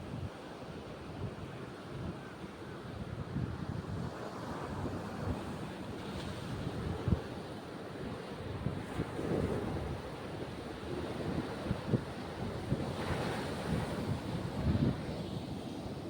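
Ocean waves roll and wash in a continuous low roar, with gusts of wind buffeting the microphone; no voices.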